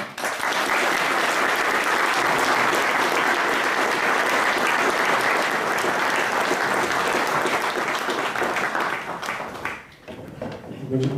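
Audience applause greets a guest speaker at a conservative congress lecture, a dense, steady burst of clapping that stays loud for about ten seconds before thinning and dipping near the end.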